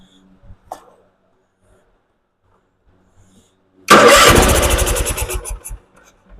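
A 1996 Craftsman GT6000 lawn tractor engine, freshly rebuilt carburetor, cranks over and catches after a few seconds of near silence, running loud and rough for about two seconds before fading.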